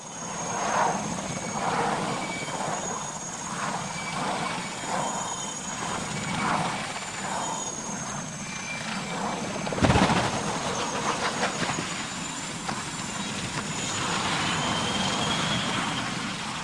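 Helicopter spinning out of control after a tail rotor failure, heard as a continuous droning rotor and engine roar with a rhythmic pulsing throb, a sudden loud thump midway, then a steady whine.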